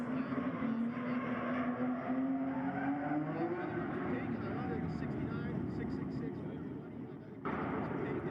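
A Nissan S13 drift car on its stock engine roars past at a grassroots drifting competition at Agassiz Speedway, the pitch climbing over a steady wash of tire and crowd noise, heard from a distance.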